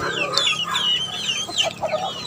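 Fighting chickens (gamecocks) cluck and call repeatedly at close range, in quick, chattering bursts over a quiet background, with no talking.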